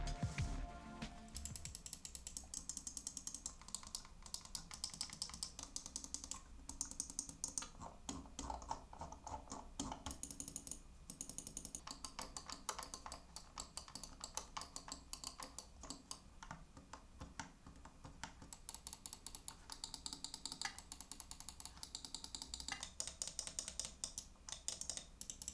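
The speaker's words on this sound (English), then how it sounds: "And here's a quick test on how each of these buttons sound." Rapid, crisp clicking from the buttons of a ROCCAT Tyon multi-button laser gaming mouse, dense trains of close, sharp mechanical clicks continuing steadily with no talking.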